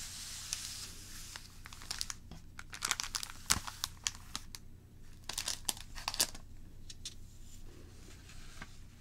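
Thin red origami paper crinkles and crackles close up in soft, irregular bursts, with denser rustling clusters and quieter gaps between handlings.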